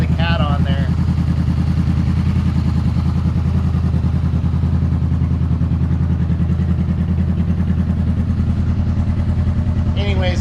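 Honda CB500F motorcycle with an aftermarket slip-on exhaust and the catalytic converter still fitted, idling steadily with a loud, continuous low rumble throughout and brief talk at the start and end.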